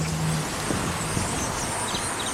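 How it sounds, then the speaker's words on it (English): A car rolling through a Walmart and Sam's Club parking lot on Sheridan Road, a low, fairly faint engine rumble passing steadily for a few seconds with no talk. "Car chasing the birds off."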